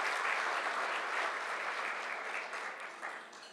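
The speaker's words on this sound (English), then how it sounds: "Have a round of applause for all of them" Applause fills a room at a Gold Star family honor evening: sustained clapping from a sizable audience that stays full for a couple of seconds before thinning and fading out.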